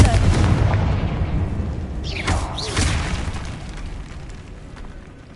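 A Confringo blasting spell detonates in Hogwarts Legacy with a loud, close, rumbling boom, followed by whooshing bursts of spell energy and a slowly fading roar.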